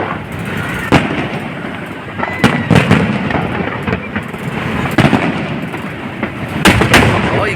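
Fireworks display bursting over the Pasig River at the Esplanade, a series of loud sharp booms and cracks at irregular intervals over a continuous crackling rumble, fairly close, with no clear speech.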